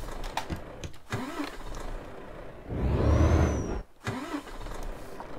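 A Volvo FH truck in Euro Truck Simulator 2 cranks without catching: a rising, roaring starter-and-engine surge of about a second, then it cuts off, with idle mechanical noise around it.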